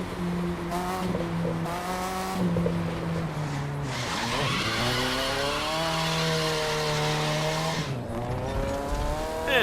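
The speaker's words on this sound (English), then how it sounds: "let's get the car started at least. It's alive." A drift car's engine runs continuously at close range, its pitch rising and falling through several revs with brief higher surges, and no speech is heard.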